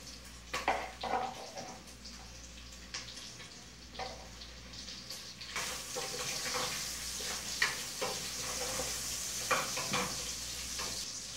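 Sausage fries in a pan after bacon, a low sizzle that grows steadier in the second half. Stirring scrapes, knocks and what sounds like running water come and go alongside it.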